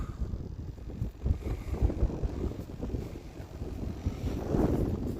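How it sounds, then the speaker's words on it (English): Gusty wind buffets an open RC plane flying field beside a pond, a low rumbling roar that swells and dips unevenly, loud and close with no voices. "This wind, man."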